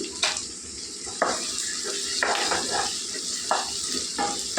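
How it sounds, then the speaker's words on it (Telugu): Cashews fry with softened onions in a pan, a soft steady sizzle broken by several sharp clinks and scrapes of stirring, fairly quiet and close, with no speech. "ఉల్లిపాయలు కొద్దిగా వేగిపోయాయి ఇప్పుడు మనం ఇందులో జీడిపప్పులు వేసుకుందామండి"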